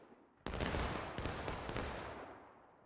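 A musket volley fired on command in the Civil War game War of Rights, a sudden sharp crackling burst of many shots at once followed by a second ragged crack and a fading rolling echo.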